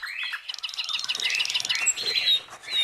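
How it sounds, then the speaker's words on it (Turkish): A chaffinch at its nest among the leaves of a cherry tree in the Nihavent region, giving busy, close squawks and chirps in a steady stream of high calls with no talking. "Geçen hafta yumurtladığı yumurtaları burada yaptığı yuvanın içinde korumaya çalışan bu ispinozun görüntüsü bu."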